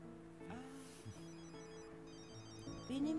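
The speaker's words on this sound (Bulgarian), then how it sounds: "Телефон ли звени?" A telephone rings softly at a distance, its tone repeating in steady bursts over a low background hum, with indoor household sounds around it.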